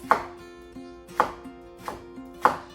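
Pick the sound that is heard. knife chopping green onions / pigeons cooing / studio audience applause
knife chopping green onions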